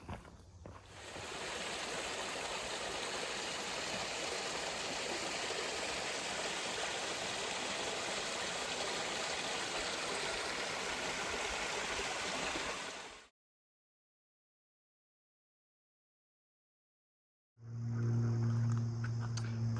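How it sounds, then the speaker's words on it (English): The Housatonic River flows alongside a hiking trail, a loud, steady rush of water heard for most of the stretch, then a sudden silence, followed by a short burst of louder, lower noise at the end. "Once again at the Housatonic River."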